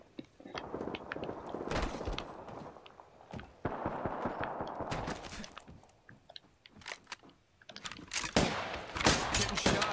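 Bursts of rapid gunfire in the battle-royale shooter Apex Legends, sharp cracking volleys and single shots coming in irregular clusters, fairly close and loud, with brief quiet gaps between exchanges.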